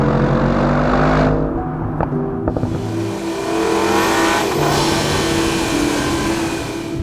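Audi RS6 GT estate with its V8 engine, a deep continuous burble and rev rise that swells and eases, loud and close, with a brief drop in the middle before the throaty rumble returns.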